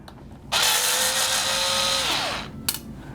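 A power driver or drill spins out screws from a PSD cover plate, one steady whirring run of about two seconds that winds down, then a short click; close and loud with no talk.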